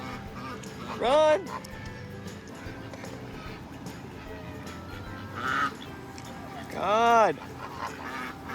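A flock of ducks and geese in a cemetery, with several loud, close honking and quacking bursts spaced a few seconds apart over steady background noise, while a person exclaims briefly between calls.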